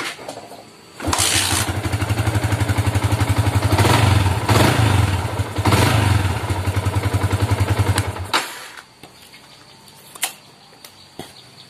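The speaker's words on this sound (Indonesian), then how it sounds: "Tapi kalau di engkol motor langsung hidup." A Yamaha Vixion motorcycle is kick-started and its engine catches at once, running at a loud, rapid idle for about seven seconds before cutting off, followed by faint clicks and handling noises.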